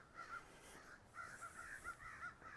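Crows caw repeatedly outdoors along a city avenue, several harsh calls in uneven bursts, moderately distant over quiet street ambience.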